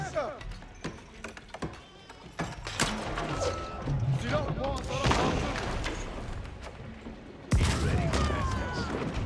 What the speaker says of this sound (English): That village gets sniped by a 600-pounder.